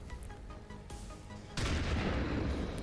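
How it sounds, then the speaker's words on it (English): Gunfire in XCOM 2, the turn-based tactics game, breaks out about halfway through as a loud, dense burst of shots and impacts that swells toward the end, with nothing spoken over it. "Let's shoot him."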